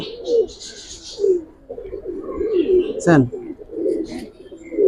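Giribaz pigeons cooing in a loft, close repeated throaty coos, with someone talking over them.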